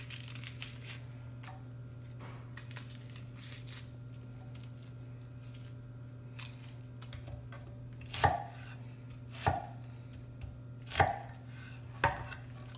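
Knife chopping an onion on a cutting board, with a handful of distinct, fairly crisp cuts spaced about a second apart over a low steady background hum.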